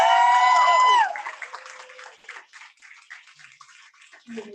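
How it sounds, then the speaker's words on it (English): Audience applause following a veena arangetram recital, rising as the held instrument notes end, then continuing as scattered, uneven clapping that thins out. "Can we give them a big round of applause?"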